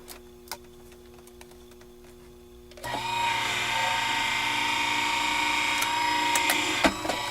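A Vagabond die-cutting machine runs steadily for about four and a half seconds, embossing a folded card sandwich with a smooth motor whine and faint clicks after a quiet start.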